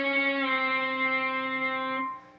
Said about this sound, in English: This time you're going to bend it up a half a step,